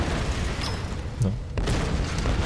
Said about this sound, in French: C'est le comble avec toutes les explosions qu'il y a là actuellement.